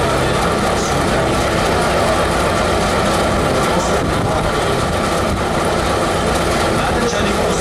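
A T679 diesel locomotive with an upright eight-cylinder supercharged engine runs with a loud, constant rumbling drone at close range, with voices heard in the background.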